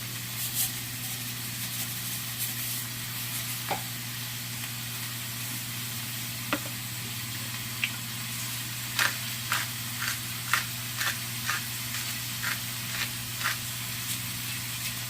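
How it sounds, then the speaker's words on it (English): Onions and peppers sizzle in two frying pans, a steady soft hiss with a low hum underneath and scattered sharp pops and crackles throughout. "while the onions and peppers are cooking down"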